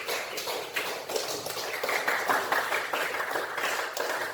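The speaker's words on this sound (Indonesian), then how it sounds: "Ya silakan duduk dan coba tepuk tangan." Ninth-grade students in a classroom clapping their hands together, a scattered patter of claps that swells into fuller group applause and then thins out.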